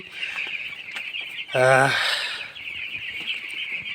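A nine-day-old broiler chick lets out a loud, brief squawk over the steady chatter and clucking of about 520 broilers in a poultry shed.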